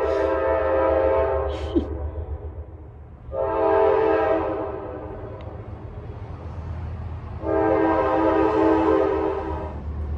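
A train horn sounds in three long, loud harmonic blasts with pauses between, over a steady low rumble of a train rolling past on tracks beside a house in North Carolina.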